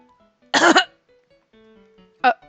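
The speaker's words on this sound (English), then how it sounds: "I rubbed his back as he coughed." A character in the visual novel game Taisho Alice coughs after choking on spit: one loud, harsh double cough, then a pause with faint tones, and a shorter single cough near the end.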